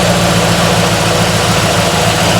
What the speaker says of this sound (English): So I've got the engine up and warming up